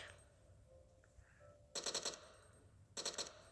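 Gunfire from a gun mod in the video game Minecraft comes as two short rapid bursts of automatic shots over a faint game background.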